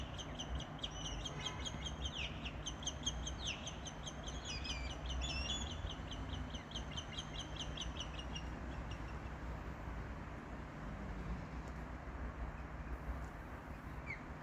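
Osprey calls in a backyard: a series of repeated high, sharp chirps through the first half, fading out later over a steady outdoor background hum and rumble.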